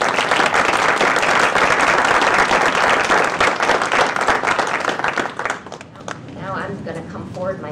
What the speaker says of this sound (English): So another round of applause, I think.